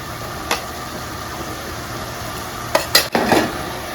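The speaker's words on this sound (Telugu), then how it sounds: "ఇప్పుడు ఇందులో ఇదిగోండి అల్లం వెల్లుల్లిపాయలు జీలకర్ర ధనియాలు వేసుకున్న పేస్ట్ అయితే వేస్తున్నాను ఇందులో" Ginger, garlic, cumin and coriander paste drops into a frying pan and is stirred, giving a soft steady sizzle with a scrape near the start and a cluster of louder stirring clatters toward the end.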